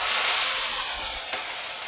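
Bottle gourd leaf paste drops into garlic frying in a pan, giving a loud, even sizzle with a single sharp clink of a utensil partway through.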